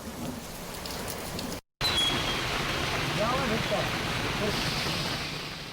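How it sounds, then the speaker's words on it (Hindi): Heavy rain pours down over a city in Alwar, Rajasthan, on a hot Sunday afternoon. It is a loud, dense, steady hiss of falling water, broken only by a brief cut, with no talking. "रविवार दोपहर बाद शहर में झमाझम बारिश हुई।"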